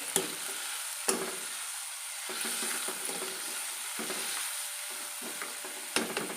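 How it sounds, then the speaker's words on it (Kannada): Tomato and chili being stirred in a frying pan, with a steady bright sizzle and repeated scraping strokes of the spoon every second or so, close and alone with no voices. "ಟೊಮೆಟೊ ಮತ್ತು ಮೆಣಸು ಎರಡು ಹಾಕಿ ಚೆನ್ನಾಗಿ ಮಿಕ್ಸ್ ಮಿಕ್ಸ್ ಮಾಡ್ಕೊಳ್ಬೇಕು"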